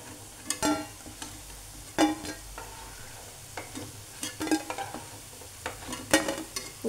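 Sweet corn pakoda fry in oil over a low flame with a soft steady sizzle, broken by scattered clinks and scrapes of a stirring spoon, close by, with no talk.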